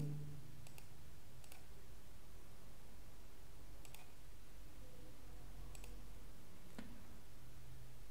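A computer mouse gives a handful of sharp, isolated clicks spaced irregularly, close and quiet against a faint background hiss.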